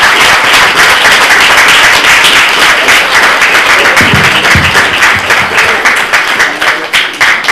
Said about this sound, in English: We're going to have to clap twice because we're going to clap that one, which is fantastic.